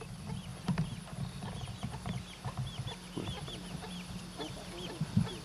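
Chickens on a farm cluck and chatter steadily at a moderate distance, a continuous scatter of short calls over a faint outdoor background with no talking.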